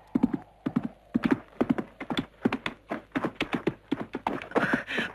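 Horse hooves clip-clop in a quick galloping rhythm, steady and fairly close, in a Western film scene, with no talk over them.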